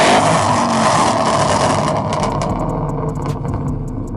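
A 900whp Whipple-supercharged Ford Mustang GT roars at high revs close by, a loud, sustained engine blare that holds steady, then eases slightly toward the end.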